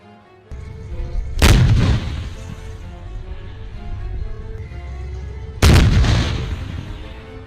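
Polish AHS Krab 155mm tracked self-propelled howitzer firing twice, two loud booming blasts several seconds apart, each trailing into a rolling echo over a steady engine rumble.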